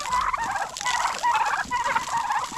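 Farm turkeys gobbling and clucking near water buckets, several loud repeated gobbles in close succession with overlapping calls from the flock.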